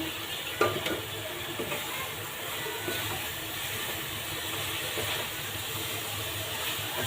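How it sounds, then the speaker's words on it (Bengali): Fried vermicelli stirred into a sticky coconut mixture in a pan for jorda semai, with a soft steady sizzle and a few faint scraping stirs close by, no voices. "এখন আমি সেই ভেজে রাখা সেমাইটাকে দিয়ে দেবো"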